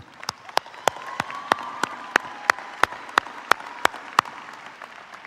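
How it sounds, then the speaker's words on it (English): Audience applause at a high school graduation fills the room, with one loud, steady clap ringing out at a regular beat above the softer crowd clapping. "Let's give a round of applause for Mr. Hauser."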